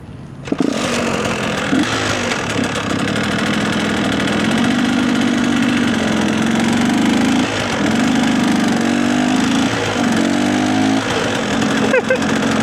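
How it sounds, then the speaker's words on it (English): A manual motorbike engine runs steadily throughout, its drone holding through clutch work and gear changes, with rev shifts around the middle and later on and a faint voice in places. "Watch what I do with my hand on the clutch and my foot on the gear lever to change gear."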